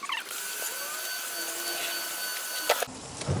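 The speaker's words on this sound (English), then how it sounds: "I'm just going to drill some big holes in this" A power drill whines steadily at close range for a few seconds while drilling large holes in an old plastic bin with a dull bit, its motor pitch holding constant, then cuts out with a short rattle.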